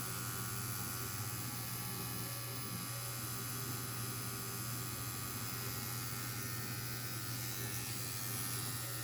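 A Centri Evader 3 Titan tattoo pen machine runs with a continuous, steady electric buzz and hum, close and unchanging throughout, with no talking.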